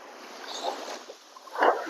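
Small waves lap gently against the shore beside a seaside hotel at sunset, soft, faint splashes rising twice over quiet background hiss.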